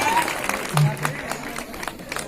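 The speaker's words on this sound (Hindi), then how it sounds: "तालियों में कोई कमी ना हो, लगातार बजती रहनी चाहिए।" At a prize ceremony for a school science quiz, an audience claps in a loose, uneven patter of scattered hand claps, moderately close, with people talking over it.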